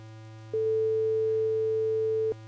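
Two mixed sine wave tones in Neos VR: a steady electronic hum joined by a second pure tone that sounds for about two seconds and then cuts off, both held at a constant level.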